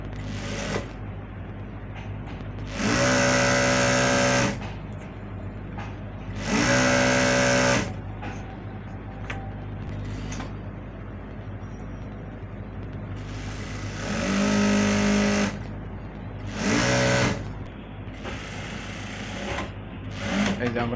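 A sewing machine stitches elastic into a pant or pajama waistband in several loud bursts of a few seconds each, with pauses between them and a voice talking underneath.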